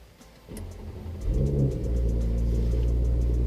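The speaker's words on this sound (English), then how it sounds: "cold start AWE exhaust for the B9 S4" An Audi B9 S4 with an AWE exhaust cold-starts with a low growling rumble that climbs at start-up, then settles into a steady, loud deep idle.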